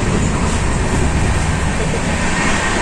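An Indian Railway train running, giving a loud, steady broadband rumble and rattle of wheels and carriage throughout, close by and continuous with no clear talk over it.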